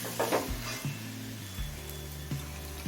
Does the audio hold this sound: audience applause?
no